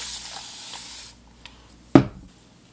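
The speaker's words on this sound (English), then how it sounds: "I'm gonna split my hair and then spray some water" A spray bottle misting water onto hair, a soft hiss at first, then a sharp, close spritz after a pause.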